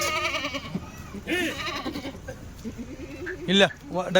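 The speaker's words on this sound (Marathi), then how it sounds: "बघा बकरी" Goats bleat repeatedly nearby, several wavering calls scattered across the clip, mixed with people talking.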